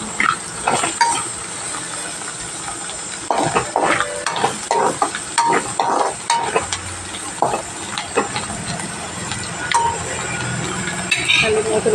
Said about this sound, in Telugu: హై ఫ్లేమ్లో పెట్టి దగ్గర ఉండి కలుపుకుంటే మాడకుండా ఉంటుంది కర్రీ అనేది